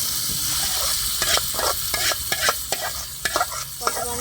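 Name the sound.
tempering of dried red chillies and curry leaves sizzling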